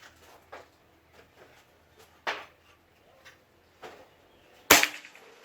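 A handful of sharp, dry pops from a PCP air rifle spaced irregularly over a few seconds, the last one loudest and closest, with quiet gaps between.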